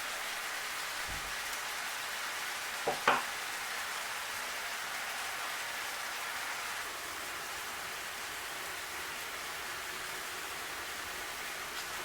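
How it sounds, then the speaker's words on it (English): Garlic butter shrimp with chili flakes frying in a pan give a steady, even sizzle throughout, with a couple of brief utensil clicks near the start and no voices. "Let them cook again for another 2 minutes."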